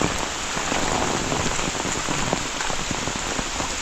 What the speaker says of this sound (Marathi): सगळीकडं पाऊस भरपूरच पडतो आहे